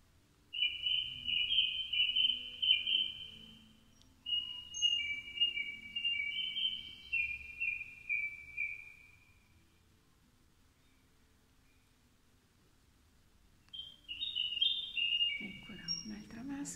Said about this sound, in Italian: Sentite che siamo nel bosco, cinguettio.